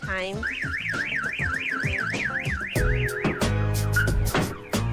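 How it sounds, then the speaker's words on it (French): A car alarm wails in a rising-and-falling siren pattern, then switches to rapid chirps and harsh honking bursts, loud and close. "Au top l'alarme."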